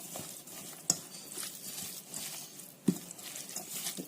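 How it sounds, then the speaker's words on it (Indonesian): Balinese spice paste and grated coconut being stirred together in a bowl, a soft, faint scraping and rustling texture with two sharper knocks along the way. "Terus kita aduk."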